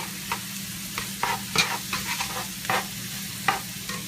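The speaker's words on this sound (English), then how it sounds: "Stir that over the next half hour." Burger spreading sauce for an In-N-Out animal style recipe being stirred in a pot with a makeshift utensil, producing scattered soft scraping and clinking strokes over a low steady hum, close and moderately quiet.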